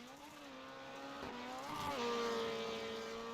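Rallycross race cars at a NASA RallyCross event in Atlanta, engines revving and shifting with rising and falling pitch, one car growing louder as it approaches, heard from a moderate distance with no voices.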